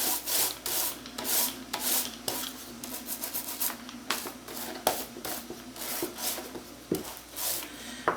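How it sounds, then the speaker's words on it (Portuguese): Sandpaper rubs along the edge of a piece of cardboard in a series of quick, close, rhythmic scraping strokes, with no voices. "Então você faz dá um acabamentozinho aqui com a lixa."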